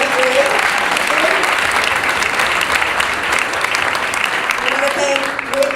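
A crowd applauds the evening's startup pitches at a tech event, dense and loud clapping that continues evenly throughout, with faint voices mixed in underneath.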